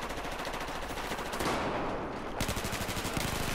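AK rifle fire in the shooter game Battlefield 4 rattles out in loud, rapid bursts of automatic shots with dense, continuous game noise and no voices.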